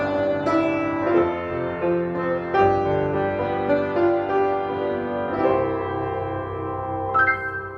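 Acoustic piano played with the damper pedal, sustained chords blending and ringing into one another in a continuous, resonant flow, played alone without talk.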